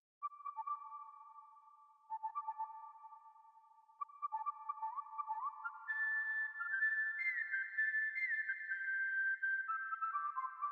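A pure, clear whistled melody rises and falls in short phrases, getting fuller and higher as it goes, with no voices.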